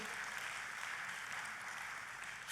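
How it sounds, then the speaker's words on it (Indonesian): Congregation applauding during a church sermon, a steady, fairly faint wash of many hands clapping together without pause and with no voices on top. "Tepuk tangannya yang paling meriah buat Tuhan kita"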